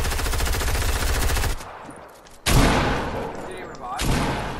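Rapid automatic gunfire in the video game Fortnite rattles loudly in a sustained burst, breaks off, then returns in further heavy volleys, with players talking over it.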